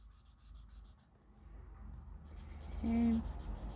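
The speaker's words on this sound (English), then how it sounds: "I'm only going to put pencil on the right hand side of the balloon here." A pencil shades and blends on paper in soft, rhythmic strokes, close and quiet, with a brief low murmur of a voice near the end.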